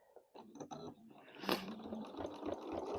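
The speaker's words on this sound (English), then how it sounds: "we're going to pop that under the machine and sew in directly on the line we've just drawn" A sewing machine stitches fabric along a drawn line while piecing a quilt block, a faint rapid whirring hum with quick mechanical ticks, starting and running steadily close by.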